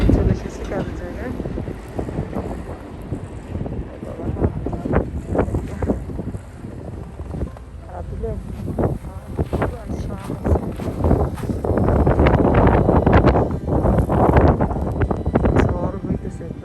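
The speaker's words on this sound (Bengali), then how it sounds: "ঝড় হইতেছে, একদম বাতাস।" Strong wind gusts batter the microphone during a snowstorm in New York City, roaring loud and close in uneven surges that grow stronger near the end. Someone talks over the wind.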